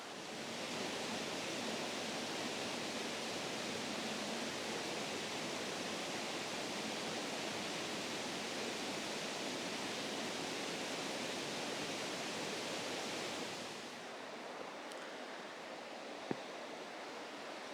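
A river flows steadily through a Dartmoor forest, a dense, even rush of water heard alone and fairly close, easing slightly near the end.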